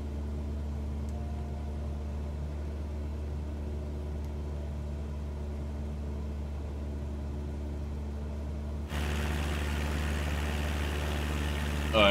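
A steady droning aircraft engine runs continuously in a flight simulator game, with a low constant hum that jumps slightly louder and brighter near the end.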